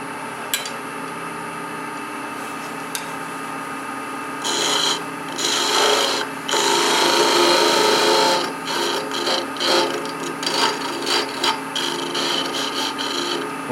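A cut metal fitting on a lathe is cleaned up with steady scraping and rasping strokes, quiet at first, then louder in uneven bursts of rubbing through the second half, with no talking.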